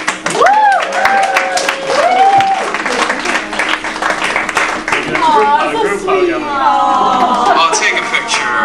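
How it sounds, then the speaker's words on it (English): A group of people claps together in a room, a loud, continuous patter of hands with voices calling and talking over it throughout. "You can clap."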